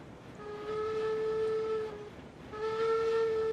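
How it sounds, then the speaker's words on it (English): Two whistle blasts from a steam locomotive in the game Railroads Online, sounding in a yard area: each a sustained harmonic tone about a second and a half long, separated by a short gap, loud over steady rolling rumble. "Two whistle blasts."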